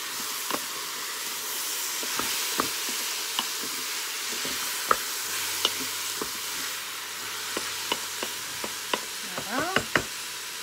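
Lentils are stirred in a Cookeo with sautéed leeks and carrots, with a soft steady sizzle under sharp intermittent scrapes and knocks from the spoon.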